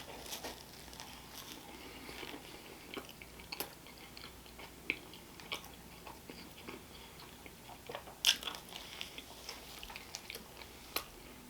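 Sausage parm sandwich being chewed during a mukbang, soft wet mastication with scattered small clicks and bites, close to the mic, steady and fairly quiet with a few sharper peaks, no talking.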